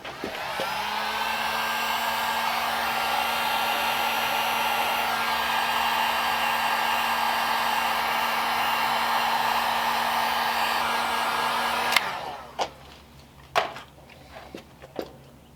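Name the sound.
heat gun blowing hot air on shrink wrap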